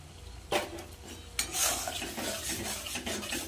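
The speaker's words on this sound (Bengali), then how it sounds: "মশলাটা ভালো করে কষিয়ে নেব, তারপরে জল দেব।" Spice paste being sautéed in a pan with boiled tomato for pabda fish curry, spoon scraping and stirring with a soft steady sizzle, a couple of sharper knocks, close and fairly quiet.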